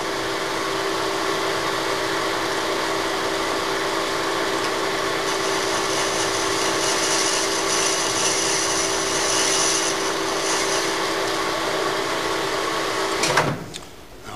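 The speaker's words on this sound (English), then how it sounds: "We're going to have to cut a small chamfer on this side." A machine tool cuts a small chamfer on the side of a connecting rod, giving a loud, steady whining hum with a constant tone that ends in a brief clatter as it winds down.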